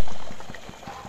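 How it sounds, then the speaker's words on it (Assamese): A pot of lentil dal with fried eggs simmers on the stove, giving a short close bubbling and plopping sound that fades slightly over about a second. "এয়া দাইলখিনি উতলিবলৈ ধৰিছে"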